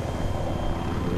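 An attack or transport helicopter in Battlefield 3 gives off a steady, dense rotor and engine roar that fills the whole short stretch, loud and close, with no voices over it.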